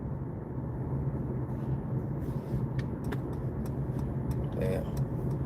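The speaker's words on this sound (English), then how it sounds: "This person's driving awfully fast." A car passes close by at speed, a steady broad road rumble and engine drone that stays loud throughout, with other traffic around.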